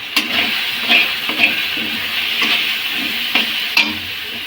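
Spiced green peas for ghugni stirred in a hot oiled pan: a steady close sizzle with a few spoon scrapes and soft clatters scattered throughout, no voices.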